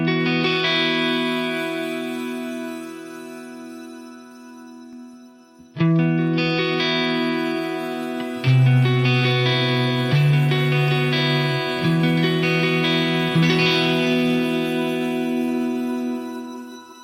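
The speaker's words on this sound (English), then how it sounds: "Let's have a listen to what it sounds like forwards and then in reverse." Sustained ambient chords drenched in long reverb, played forwards and then reversed: layered tones ring steadily, then after a brief dip near the middle return as swelling, smeared reversed tails. The sound is dense and evenly loud, with no voices.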